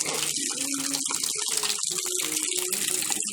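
Fuel drains out of the tank of an S10 pickup with a 406 small-block into a bucket, a steady, close, splashing liquid stream that runs continuously throughout.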